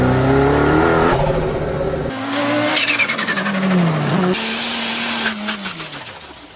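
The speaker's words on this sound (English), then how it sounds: "the decatted version, I mean, if you really want to hear what like you hear in like these Fast and the Furious movies" A decatted performance car exhaust revs hard, loud rising and falling engine howls with sharp gear-change breaks and crackling pops, several bursts in succession with no talk.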